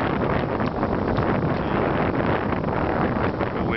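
Strong gusting wind from the remnants of Hurricane Ida roars steadily across the microphone outdoors, a loud, continuous buffeting rush with no pauses and no talking.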